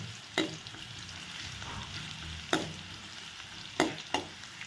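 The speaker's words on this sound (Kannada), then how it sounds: "ಈರುಳ್ಳಿ ಚೆನ್ನಾಗಿ ಫ್ರೈ ಮಾಡಿ ಈರುಳ್ಳಿ ಬ್ರೌನ್ ಆಗಬೇಕು" Onions browning in a pan for a Kerala-style curd curry, with a soft continuous sizzle broken by several sharp scrapes and clacks of a spatula stirring them.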